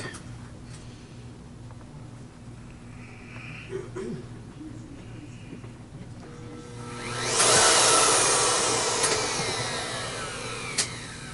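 A Miele C1 S2000 vacuum cleaner under repair, its motor starting up briefly as a loud rising whoosh of airflow after a quiet lead-in of faint handling noise, then winding down.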